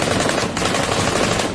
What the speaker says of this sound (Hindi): उस बच्ची ने एक के बाद एक कई गोलियां दागी